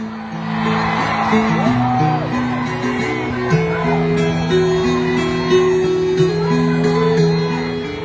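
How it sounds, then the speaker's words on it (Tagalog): Supporters at a Duterte political rally in Davao roar and cheer as a large crowd, with sustained shouting and whoops layered over a steady loud din for the whole stretch. "Isang malaking sigaw!"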